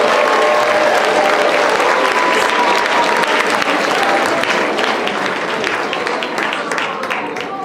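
A live audience applauds a quiz contestant named Colin at a school event, dense steady clapping throughout that fades slightly toward the end, with faint voices mixed in.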